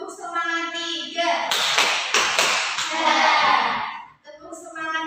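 A classroom of children claps the 'tepuk semangat' rhythm together in a few quick, sharp clusters of hand claps. The claps come amid steady chanting voices, with a brief pause near the end.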